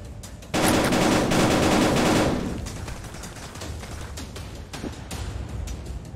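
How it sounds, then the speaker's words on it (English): Gunfire in a virtual reality video game opens with a loud, dense burst of rapid automatic shots lasting a couple of seconds, followed by scattered sharper single shots and crackling over a continuous game background. "Who the fuck is shooting me?"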